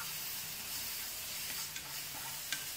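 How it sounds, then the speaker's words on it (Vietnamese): Lime leaves frying in hot oil in a pan, a steady soft sizzle with faint crackles and a few stirring clicks, close and continuous. "Rồi, chúng ta cho một ít dầu và chiên nó lên. Đảo qua chiên lên. Chiên lá chanh."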